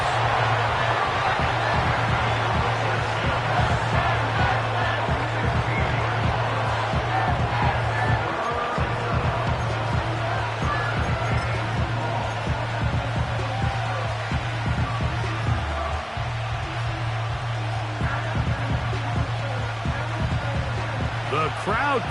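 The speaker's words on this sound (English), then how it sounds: "The crowd cranking it up another notch before third and long." A Texans home football stadium crowd roars in a sustained, swelling wall of noise before a third-and-long play, with an announcer talking over it throughout.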